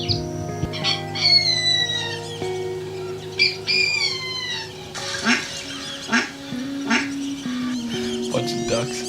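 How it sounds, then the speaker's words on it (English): Florida ducks from a bird songs sample pack quack and chatter in repeated bursts over a steady tonal ambient drone, several calls overlapping with other fowl sounds at moderate loudness. "Bunch of ducks."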